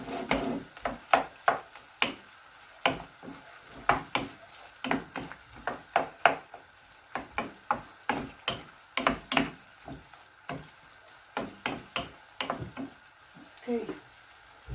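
Tomatoes crushed and stirred in a frying pan, a quiet sizzle under repeated sharp knocks and scrapes of the utensil against the pan, coming in an uneven rhythm.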